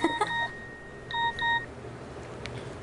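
A mobile phone plays a text message notification tone indoors: a quick cluster of bright electronic beeps, then two more beeps a moment later, clear and close over a quiet room.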